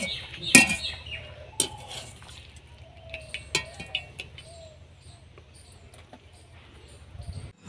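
Boiled banana flower pieces being moved onto a metal plate, heard as sparse light clinks and soft patters of utensil on metal with quiet pauses in between.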